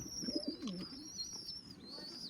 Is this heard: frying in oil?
no